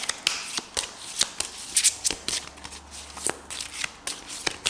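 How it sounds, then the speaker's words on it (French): Tarot cards being shuffled and drawn by hand, a close series of crisp riffling and snapping card sounds in quick irregular bursts. "Du coup je prends 4 cartes pour Marc."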